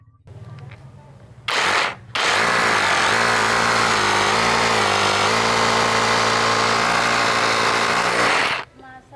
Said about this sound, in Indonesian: Jadi saya akan setting di hammer drill ya untuk bobokan kita mulai.